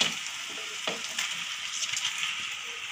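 Fish pieces frying in a fried masala in a pan hiss in a steady, moderately loud close sizzle, with a couple of soft stirring knocks near the start.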